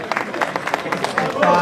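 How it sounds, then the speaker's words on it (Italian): Scattered applause greets a young rider at a regional enduro championship award ceremony in Figline Vegliaturo, Calabria, as short bursts of hand claps mix with an announcer's voice and crowd murmur. "Applauso, applauso"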